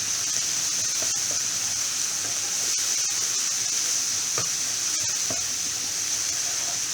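Red garlic chutney fries in butter in a pan with a steady bright sizzle, occasional crackles and light ticks of stirring, up close and uninterrupted by voices.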